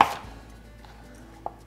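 A knife cuts potatoes into even half-inch chunks on a board for roasted vegetables, one firm chop at the start and a second sharp, close tap near the end, with a quiet pause between and no talking.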